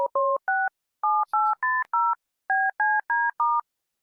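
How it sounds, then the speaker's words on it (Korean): Telephone keypad tones sound as a number is dialed. Eleven short, clean beeps fall in three quick groups, close and clear against silence. "다시 한번 전화해 볼게"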